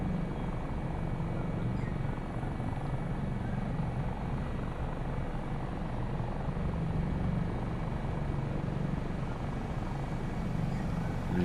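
Steady droning rotor and turbine hum of a Dolphin helicopter in Microsoft Flight Simulator cruising near Mt Hood, constant and even in level with no speech.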